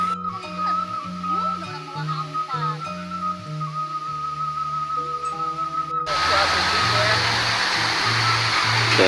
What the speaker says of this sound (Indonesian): sungai kecil ini menuju ke situ yang berada di sebelah sana ya